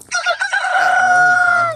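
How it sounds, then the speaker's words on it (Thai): A rooster crows in a Roblox video game set on a deserted island, one long, loud, close cock-a-doodle-doo that rises through a few choppy opening notes into a sustained, wavering call lasting nearly two seconds, with no talk over it. "กมีเสียงไก่ร้องด้วย"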